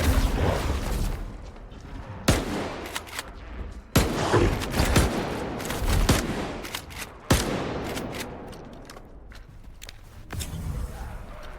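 Sharp gunshots ring out in the video game S.T.A.L.K.E.R. 2, several spaced single cracks and short bursts with booming tails over a rumbling background, loud and close, with no talking.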